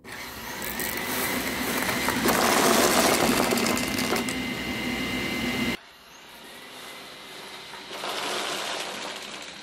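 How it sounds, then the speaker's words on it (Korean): A Xiaomi robot vacuum cleaner runs with a steady, loud motor whir and brush noise, the drone dropping in level partway through and then continuing more quietly, no talking. "이번에는 로봇 청소기를 한번 돌려보도록 할게요"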